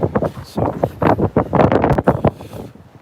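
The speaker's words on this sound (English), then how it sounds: "It's crazy windy, right?" Strong gusts of wind buffet the microphone while walking along a street, loud rumbling bursts in uneven waves with someone speaking over them.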